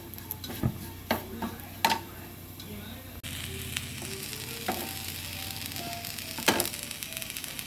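Browned grated coconut roasts in a pan with a few whole shallots for prawn theeyal, giving a steady sizzle. A spoon strikes and scrapes the pan several times, with sharp metallic clinks at intervals.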